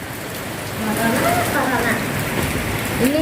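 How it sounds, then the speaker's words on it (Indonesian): Heavy rain driven by strong wind pours down steadily onto an unfinished house during a storm that causes flooding, a dense hiss throughout with a voice speaking briefly over it. "hujannya deras ini, sampai putih-putih. Hujan angin ini guys"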